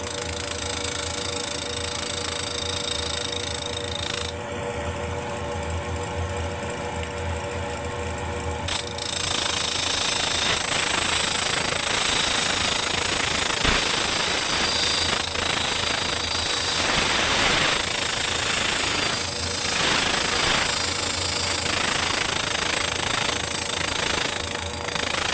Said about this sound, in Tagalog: Dadaanan natin ng diamond, yung pang-cutting ng tiles para pumantay siya ulit.